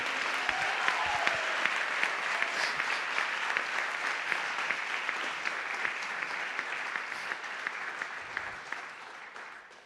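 Steady, sustained applause from an audience at a School of Music awards day ceremony, dense clapping from a full room continuing throughout and tapering slightly at the end.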